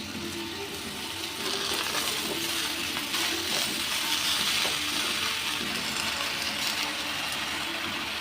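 Chopped spinach added to a pan of sautéed spices for a Bengali palong shaak curry, giving a continuous close frying hiss with stirring scrapes that grows a little louder after the leaves go in.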